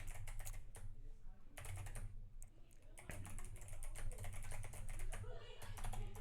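Rapid clicking of a computer keyboard, bursts of keystrokes in uneven runs with brief pauses, close and fairly loud over a low hum.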